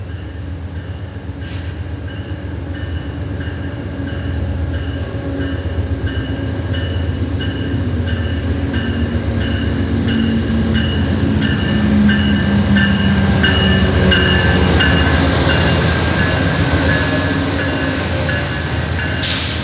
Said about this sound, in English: just like train 93 pulling into a very steady stop